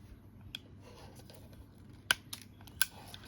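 A hollow 2.4 round tube is cut with angle cutters, giving a few sharp, close snips and clicks over a quiet background of faint handling noise.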